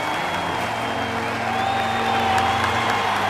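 A crowd claps steadily in a Hindi-dubbed action film scene, a dense, even wash of applause with sustained music tones running underneath for the whole stretch.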